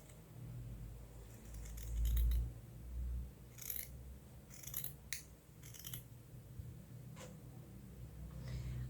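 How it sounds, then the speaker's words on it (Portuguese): Scissors cut through felt along a traced ear pattern for a Frankenstein felt bag, giving a series of crisp snips in quick clusters, close and fairly quiet, with no talking. "E vou cortar assim, no tamanho normal mesmo do risco, do molde, né?"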